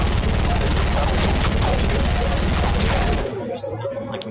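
Rapid gunfire from Fortnite gameplay, a loud, dense stream of automatic shots that cuts off abruptly near the end, leaving faint background game sounds.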